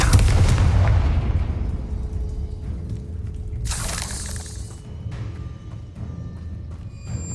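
A Confringo explosive spell blast in the Hogwarts Legacy video game bursts loudly at the start and rumbles away, followed by a bright shattering crash and ringing tones as the noise fades.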